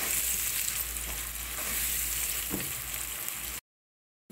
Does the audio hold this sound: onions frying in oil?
yes